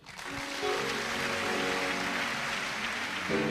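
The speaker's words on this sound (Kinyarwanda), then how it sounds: "Mu ntiza amashyi mushimire." A church congregation claps for a departing pastor in a sustained wash of applause that stays fairly quiet and steady, with a faint tonal hum running underneath.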